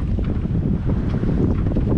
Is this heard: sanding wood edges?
no